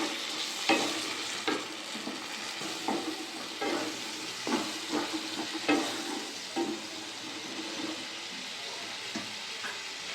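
A spice paste with turmeric, slit green chilies, salt and a splash of water sautés in hot oil, giving a constant bright sizzle. It comes with repeated close scrapes and taps of a spatula stirring the pan.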